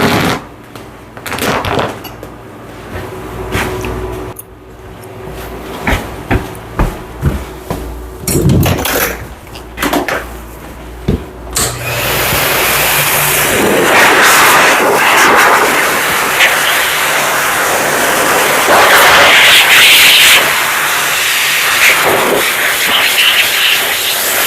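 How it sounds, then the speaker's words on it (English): A blow dryer runs on a toy poodle being groomed on a table. Irregular clattering and knocks come first, then the dryer starts and holds a loud, steady roar for the rest of the clip. "I'm going to finish blow drying him on the table."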